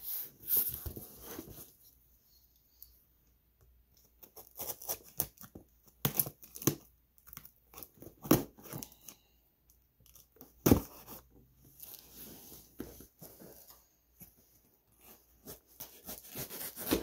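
A cheap $5 knife slicing open a cardboard shipping box, faint scattered tearing and scraping strokes with crinkling cardboard, intermittent and close over a quiet background.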